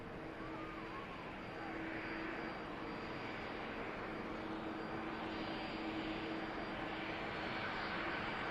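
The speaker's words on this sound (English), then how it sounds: "Do have an aircraft on approach as well." Aircraft approaching Manchester Airport, a steady broadband engine roar that swells slightly and holds at a moderate distance, with faint background voices underneath.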